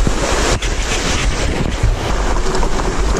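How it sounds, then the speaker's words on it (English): A Montana brook rushes and babbles in a loud, continuous wash of water, heavily buffeted by wind noise on the microphone, with no voices. "It's a babbling brook."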